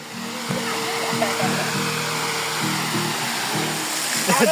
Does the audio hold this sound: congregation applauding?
no